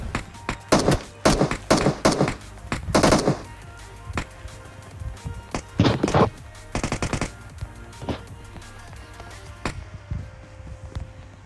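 PUBG Mobile gunfire crackles in fast automatic bursts and single shots, loud and close at first, then sparser, more distant reports, all heard without talk.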